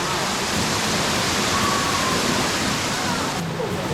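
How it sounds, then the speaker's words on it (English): Constant roaring rush of a waterfall at Watkins Glen State Park, loud and broadband, with no break or change throughout. "Just about ready to walk under the waterfall."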